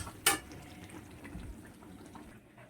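Hot water poured into a hot cooking pot gives one short, sharp hiss near the start, then settles into a faint, low background simmer.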